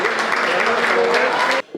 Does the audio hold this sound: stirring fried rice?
no